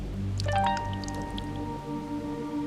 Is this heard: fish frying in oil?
no